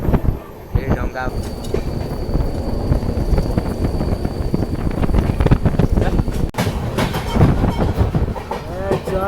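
The Hirakhand Express, Bhubaneswar to Koraput, rolling along rails during a monsoon journey: continuous loud rumble with rhythmic clickety-clack of wheels and wind buffeting, with faint voices in the background.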